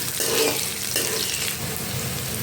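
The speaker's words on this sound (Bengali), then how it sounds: "এরপর ওই তেলে সামান্য জিরে এবং কাঁচা লঙ্কা এবং পেঁয়াজ দিয়ে" Cumin seeds, green chilies and onion hit hot oil in a pan, giving a loud, close, steady sizzle with scraping stirs through it and no voices.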